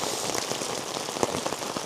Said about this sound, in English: it's raining a lot harder than we anticipated